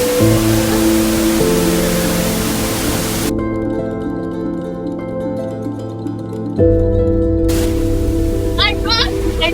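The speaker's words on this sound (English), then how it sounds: "Can you hear the water?" A waterfall in Nigeria roars in a dense, steady rush of water that fills the whole clip, loud and close, while people talk over it.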